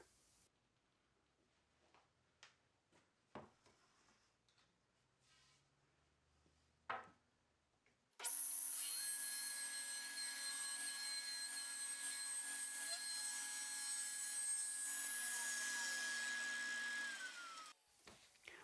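A table saw with its blade tilted to 10 degrees rips along one edge of wood stock, a loud steady whine lasting around nine seconds after some quiet shop handling noises, then spinning down.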